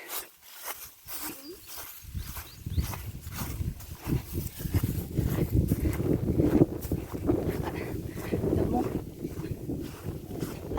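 Strong wind gusts buffet the microphone, building into a steady low roar that rises and falls.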